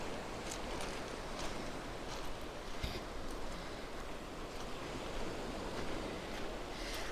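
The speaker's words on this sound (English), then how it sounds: "We'll end on a minute of sea." Sea waves wash onto a pebble beach at Rossall, a steady close roar of surf with gentle swells and faint rattling, mixed with light wind, and no voices.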